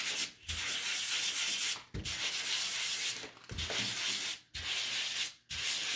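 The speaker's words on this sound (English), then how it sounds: "We're gonna sand them and then we're gonna get them out of here." Painted wooden sign pieces being sanded by hand, a steady close scratchy rubbing in long strokes broken by four brief pauses where the sandpaper lifts.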